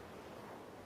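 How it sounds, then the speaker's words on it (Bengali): Sea waves wash steadily onto the beach behind a hotel in Barcelona at night, a continuous, fairly soft rush of surf with no voices over it. "তো এই যে আমার পিছনে সমুদ্র, খুব সুন্দর লাগছে আসলে এই সময়টা অনুভব করতে।"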